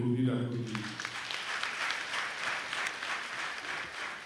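Crowd applause for a new party president at a political gathering in Benin, breaking out after a brief voice and continuing as steady, moderately distant clapping.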